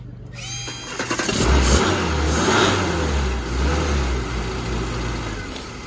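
A tuned car engine cranks, catches and fires up, then revs hard and settles into a loud, steady throbbing idle close by, with occasional surges.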